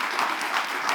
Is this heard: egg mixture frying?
no